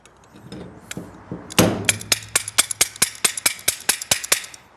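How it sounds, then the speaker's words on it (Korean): A locking adjustable wrench clamped onto a workpiece is struck repeatedly with a tool, a rapid run of about a dozen sharp metallic clinks in steady rhythm, close and loud, preceded by a few scattered knocks. "자, 때려도 이렇게 빠지지가 않아요."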